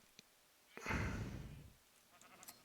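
Sheep bleating in Minecraft, a single soft wavering bleat in the middle, with faint small clicks around it in an otherwise quiet scene.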